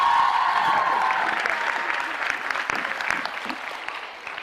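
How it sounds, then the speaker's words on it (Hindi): Applause breaks out from a quiz show audience, starting strong with a brief tonal hum, then thinning into scattered, uneven claps as it fades. "अरे तालियां बजाइए इस बात के लिए"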